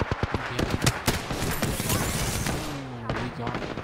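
Gunfire in the video game Apex Legends cracks in rapid bursts near the start and continues in scattered shots afterward, loud and close, with players' voices talking alongside.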